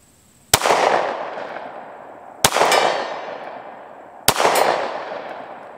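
Three sharp Glock 43 pistol shots fired at a steel target 50 yards away, each a loud crack followed by a ringing metallic clang that decays over a second or more, spaced about two seconds apart with no talking.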